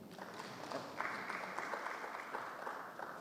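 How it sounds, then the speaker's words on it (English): An audience claps steadily at a public address by a Kampala city official, a dense, even wash of many hands sustained throughout at moderate distance. "Why don't you clap for us?"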